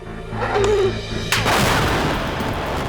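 A big explosion goes off after a countdown on a test range, a sudden loud blast that rolls into a long, rumbling roar and slowly fading debris noise.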